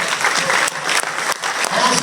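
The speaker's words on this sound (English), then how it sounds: "give them a round of applause" Audience applause at a community forum welcoming a panel, a dense, loud burst of many hands clapping together that holds steady for a couple of seconds, with brief dips in intensity.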